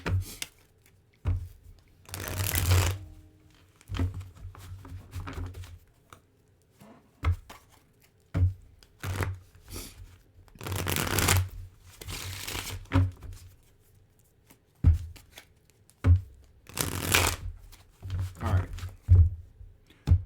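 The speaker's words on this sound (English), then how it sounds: "Let's give it another shuffle here." Repeated bursts of tarot cards being shuffled, riffled and tapped together, close and crisp, separated by short pauses and low handling noises.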